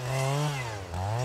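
A chainsaw runs loud and steady at close range, cutting tree and shrub shoots in a riverside meadow, its engine pitch dipping briefly under load midway before climbing back.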